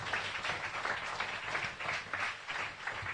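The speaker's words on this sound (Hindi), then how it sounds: "A mighty clap offering to the Lord." A congregation claps together at a church service, a dense, sustained wash of applause from many hands that stays steady and fairly loud throughout.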